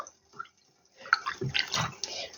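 Vinegar poured into a small shot-glass measure in a home kitchen while preparing marinated tomatoes, a short trickling splash that runs for about a second after a brief faint touch.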